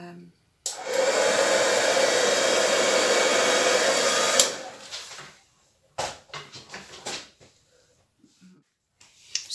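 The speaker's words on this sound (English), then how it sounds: "I'm going to use hairdryer very gently." A hair dryer roars loudly and steadily for about four seconds over acrylic pour paint, then cuts off, followed by a few soft clicks and handling noises.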